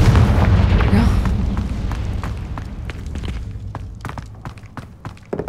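A Confringo fire spell explodes in the video game Hogwarts Legacy, a loud booming blast that decays over several seconds into scattered crackles and sharp pops.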